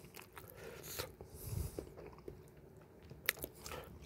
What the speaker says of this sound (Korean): 김치를 못 먹다가 먹으면 이렇게 먹으면 진짜 맛있어요.